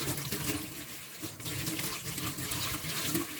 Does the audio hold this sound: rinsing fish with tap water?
yes